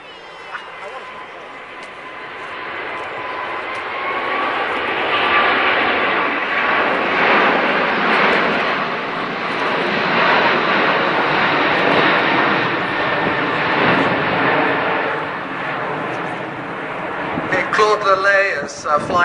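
An Airbus A380 jet airliner roars past overhead at an air show, a sustained loud broadband rush that swells and slowly fades.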